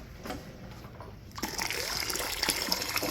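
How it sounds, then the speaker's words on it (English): Water bursts out of a heater core pipe on a 2006 Ford F550 with a 6.0 engine during a flush, a quiet trickle suddenly swelling into a steady, loud gushing rush that keeps flowing. "you'll see right over here where the water is going to start coming out"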